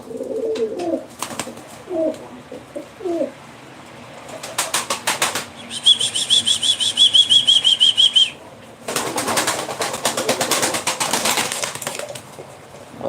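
Pigeons at a Turkish live bird auction in Ankara, with soft coos early on, then bursts of wing flapping and a steady high chirping stretch, fairly close and moderately loud.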